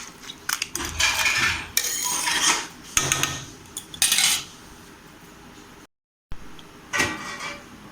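A metal lid set onto a pot of crab curry, with several close clinks and scrapes of metal on metal in quick bursts, a short gap of silence, then one more clatter.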